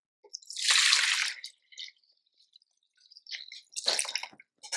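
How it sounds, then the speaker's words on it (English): Glycerin solution being poured into a storage container for preserving eucalyptus stems, a close wet splashing burst at first, then quieter drips and small liquid sounds with a second splashy pour near the end. "So I'm going to pour this in."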